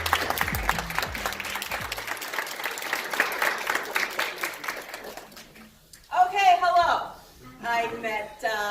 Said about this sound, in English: Give them a nice round of applause one more time.